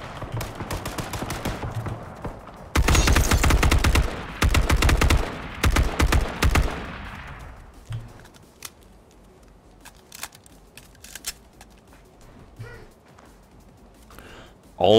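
Gunfire in a battle royale video game: dense loud bursts of rapid shots in the first half, then scattered sharper single cracks and quieter clicks over a low background.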